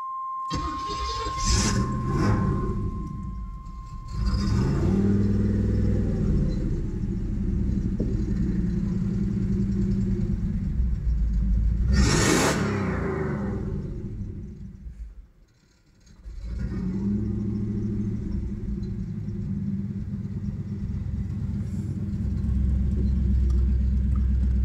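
A 1988 Chevy Camaro IROC Z28 cranks and fires, then its engine runs with a deep steady rumble. It briefly cuts out and restarts midway before settling back into a loud, close idle.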